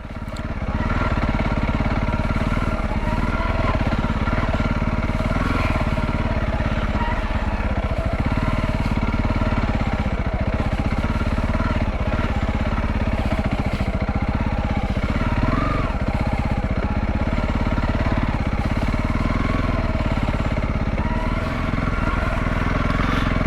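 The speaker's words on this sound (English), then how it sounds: "Just plods along, this bike. Just keeps going." A motorcycle rides steadily along a road in the Fens, its engine a continuous, even drone at moderate speed that stays close and loud throughout with no clear revving.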